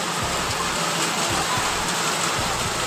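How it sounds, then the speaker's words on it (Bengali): Heavy rain pours down steadily in hot weather, with gusty wind and occasional lightning, a dense, continuous hiss close by with soft low rumbles underneath and no talking. "প্রচণ্ড জোরে বৃষ্টি হচ্ছে।"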